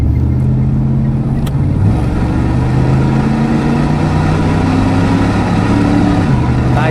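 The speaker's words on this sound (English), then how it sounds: "We'll roll into the throttle here on this black top." A 1987 Chevrolet Camaro IROC with a TPI 350 V8 and 700R4 automatic accelerates on blacktop, its loud engine note climbing steadily, dipping briefly at a shift, then rising again, heard close from inside the car.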